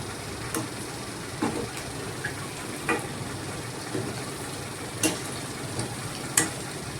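Vadas frying in hot oil while being prepared as a Vinayagar Chathurthi offering, a quiet steady sizzle with scattered soft pops and crackles and no speech.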